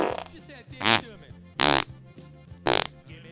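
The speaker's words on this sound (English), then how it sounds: "this next woman on the scene, she's farting all over" A woman lets out three loud, low, rumbling farts, each about a quarter second long, spaced roughly a second apart over softer background sound.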